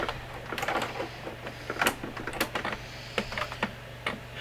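A sewing machine set to a 1.3 stitch length runs a gathering stitch along the edge of a 21-inch piece of linen for a shirt armhole, giving rapid close mechanical ticking and clatter in short uneven bursts with a steady low hum beneath.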